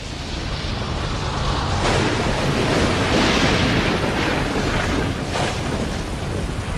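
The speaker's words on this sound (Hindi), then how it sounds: "कई लाख साल पहले जब पृथ्वी ठंडी हुई, तब बारिश होने लगी" Steady heavy rain pours with a broad continuous wash, and rolling thunder swells around the middle of the stretch, loud and close with no talking.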